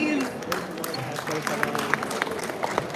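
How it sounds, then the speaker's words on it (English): Audience applause at an author and publisher felicitation ceremony at a book fair, scattered claps of moderate loudness running steadily beneath voices talking over them. "Let's have a huge round of applause, please."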